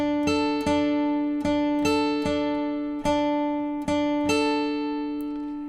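Acoustic guitar fingerpicking pattern from a song, with about seven clear plucked notes ringing over sustained strings at a steady, moderate pace, played alone and close.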